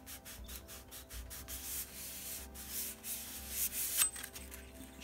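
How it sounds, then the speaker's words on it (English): Fine-grit sandpaper, around 120 to 220, rubs back and forth over a piece of metal, giving repeated close scratchy strokes in an uneven rhythm with no voices. "or even light sandpaper, you know, a lot of grit, high grit, 120, 220, somewhere up in there."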